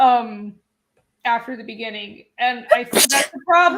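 A single sharp sneeze bursts out close by in the middle of conversational speech, with talking both before and after it.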